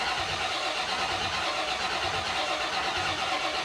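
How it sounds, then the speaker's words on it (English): A 1950 Fargo truck engine cranks over on the key, a steady mid-pitched churning engine noise that holds evenly and close for the whole stretch with no voices. "I'm gonna just crank it over with the key first to see if anything even happens"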